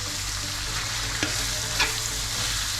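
Onions sizzle in a hot pan with green chilies, a constant close frying hiss broken by a couple of sharp spatula scrapes as they are stirred.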